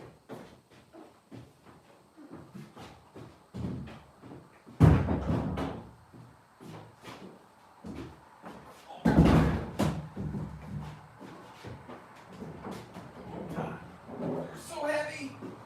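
A heavy old church door is shifted about, giving two loud thuds against a run of scraping and knocking close by, with a person talking on and off between them.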